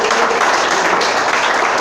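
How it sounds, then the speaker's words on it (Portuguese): Church congregation applauding, a dense steady wash of many hands clapping at once, loud and close, with no break over the short stretch. "Quem crê pode aplaudir, glorificar."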